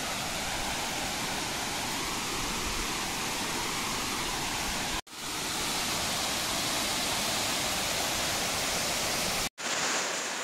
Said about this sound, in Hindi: ये पानी गिरने की आवाज है।